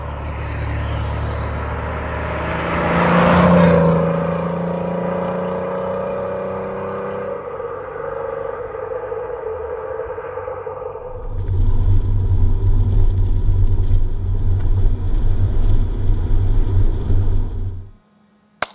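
A 3.0 V6 engine in an Alfa Romeo Spider runs steadily close by, with a swell in revs early on, then a deeper, louder low rumble for several seconds before it cuts off abruptly.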